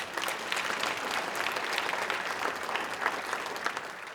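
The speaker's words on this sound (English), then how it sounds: "I want to hear some applause for that work that they do" Audience at a Kwanzaa celebration applauding steadily, a dense wash of many hands clapping at moderate distance that holds evenly throughout.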